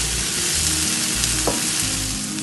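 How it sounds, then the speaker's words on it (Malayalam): Coriander leaves sauté in a pan for an ostrich-egg scramble, a dense continuous frying sizzle close up with a light stirring clink, no voices. "പകുതി മല്ലിയില നല്ലതുപോലെ വഴറ്റുക."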